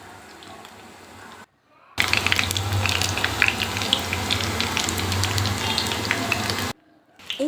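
Potato and flour snacks with cornflour sizzle steadily in hot oil, a dense crackling fry close to the pan with brief quiet gaps at the start and end.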